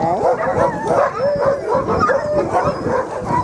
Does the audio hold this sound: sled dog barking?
yes